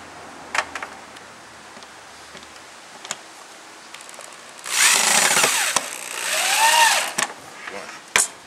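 A powered screwdriver drives a screw into wood pieces for a bird house, a loud whirring burst of about two seconds in the middle, with scattered clicks and handling knocks before and after.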